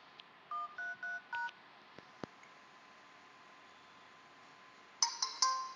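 A mobile phone keypad sends a quick run of four DTMF dialing tones, then a long quiet stretch with a couple of faint clicks, and a burst of brighter tones at the end, all close and without talk.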